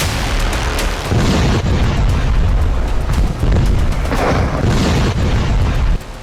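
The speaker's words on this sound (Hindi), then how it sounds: "जंग में खौफनाक बंकर बस्टर बम से अटैक शुरू हो चुका है।" Bunker buster bombs striking in an attack on Tehran, Iran, a dense run of loud, heavy booming blasts with crackling rumble, several impacts in quick succession before an abrupt drop.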